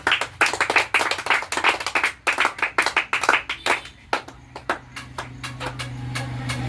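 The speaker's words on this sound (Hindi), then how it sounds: "अब सभी लोग ताली बजाइए" A crowd claps at the opening of a clothing shop, producing a rapid stream of loud, close hand claps. The clapping continues for several seconds before thinning into scattered claps over a steady low hum.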